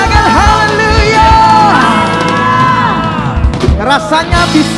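Church congregation cheering, whooping and shouting praise during an online worship service, a loud sustained wash of many voices with rising yells throughout, over music.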